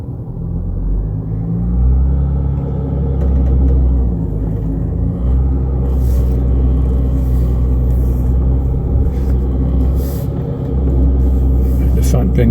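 A 4x4 vehicle with its front differential lock engaged drives out of a stuck position, its engine rumbling loud and steady up close while a voice talks over it.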